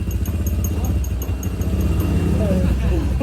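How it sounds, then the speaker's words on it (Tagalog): A rebuilt motorcycle engine with a CRP pulley idles steadily and quietly, a low continuous hum running the whole time under a voice talking over it. "Ayan, tahimik mga papa yung makina."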